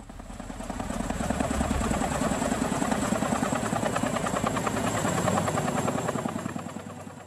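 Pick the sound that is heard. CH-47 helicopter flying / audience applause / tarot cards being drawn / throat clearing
CH-47 helicopter flying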